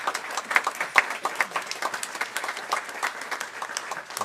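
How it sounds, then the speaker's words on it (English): Board meeting audience in the Cleveland City Schools meeting room applauding new teachers, a modest group clapping steadily and fairly close, with individual claps standing out. "So let's give these folks a round of applause."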